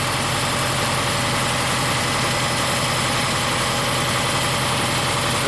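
A Subaru engine with a high-idle fault idles steadily at about 1,300 rpm while sucking in extra air, a dense continuous rumble with hissy air noise, close and unchanging throughout.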